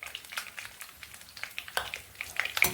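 Tempering spices fry in hot oil for a Telugu bangaladumpa palakura curry, a close, steady crackling sizzle full of quick pops and spits that grows busier toward the end.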